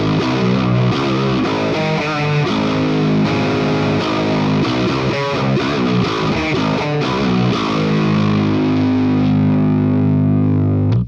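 Electric guitar run through a Tonex capture of an 800 amp's lead channel, playing medium-gain rock chords and riffs with a thick distorted tone, loud and steady for about eleven seconds with no voices.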